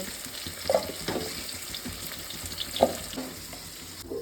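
Drumstick (sajne data) pieces frying in hot oil in a home kitchen, a steady low sizzle with a few louder spatters and stirring knocks, close by and with no talk.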